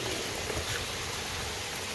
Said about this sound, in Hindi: रात की शदीद किस्म की बारिश हो रही है